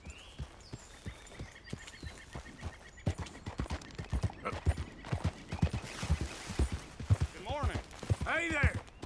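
Rhythmic clip-clop of horse hooves on hard ground in the video game Red Dead Redemption 2, getting busier and louder, with a horse whinnying near the end and some voices mixed in.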